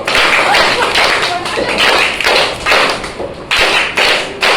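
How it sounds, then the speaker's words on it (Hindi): An audience claps for three children performing as a fish, a stork and a crab in a school play, with irregular bursts of hand claps and thumps close by, mixed with voices. "इन तीनों के लिए अभिनंदन ताली गुरु"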